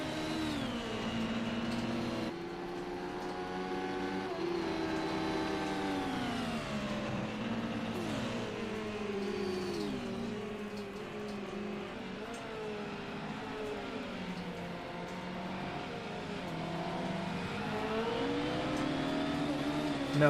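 Formula-style race cars lapping the Le Mans circuit in a racing video game, steady high engine whine with rising and falling pitch sweeps as cars accelerate and shift, continuous and fairly loud with no talk.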